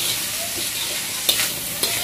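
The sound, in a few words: stir-frying noodles with onions in a black wok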